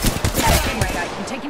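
Gunfire in Apex Legends, a quick cluster of sharp shots in rapid succession lasting about a second, fairly loud and close.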